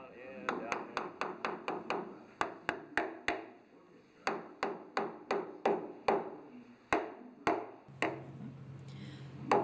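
Hammer blows pound a wooden rubrail insert down into place along the hull of the steamship SS Virginia V in a shipyard, a long run of sharp, evenly spaced strikes in quick bursts, close and loud, with a low hum joining near the end.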